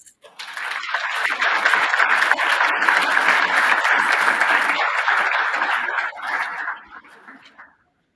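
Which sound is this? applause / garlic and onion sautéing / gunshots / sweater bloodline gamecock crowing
applause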